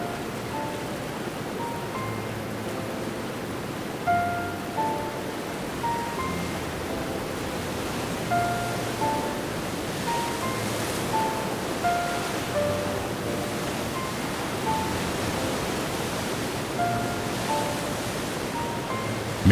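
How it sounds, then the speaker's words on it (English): Waterfalls pour steadily through a damp forest after the dry season ends, a constant broad rushing wash with faint bird chirps scattered on top, no voices. "Myriad waterfalls rejuvenate every inch of the forest as they steadily flow downward."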